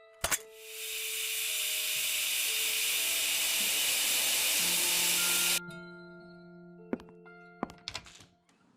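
Fire doused in the Desolatium video game: a sharp thunk, then a loud sustained steam hiss lasting several seconds that cuts off abruptly, followed by scattered metallic dings and clanks.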